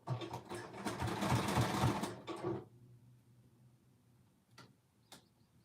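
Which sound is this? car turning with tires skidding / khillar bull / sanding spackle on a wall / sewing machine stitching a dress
sewing machine stitching a dress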